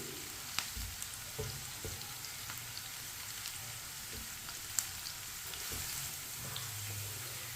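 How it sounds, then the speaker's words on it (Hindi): Onions browning in a pan while stirred with a spoon, a soft low sizzle broken by light scattered spoon clicks and scrapes, and no voices. "प्याज को इसी तरह चम्मच चलाते हुए ब्राउन करना है"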